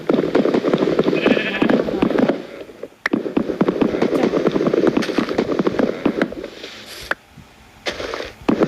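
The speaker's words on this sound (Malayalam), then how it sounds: "ആടുകളൊക്കെ ഇഷ്ടംപോലെ ഉണ്ട്." Sheep in the video game Minecraft bleat repeatedly in a dense, continuous chorus, loud and close, broken by a few short sharp clicks and a brief quiet gap.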